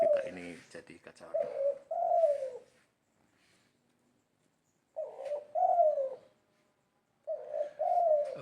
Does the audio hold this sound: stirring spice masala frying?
no